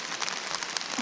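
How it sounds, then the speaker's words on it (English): Heavy rain pours down at night in a steady dense hiss with scattered louder drop impacts, close and continuous, no voices. "it's absolutely hammering down now"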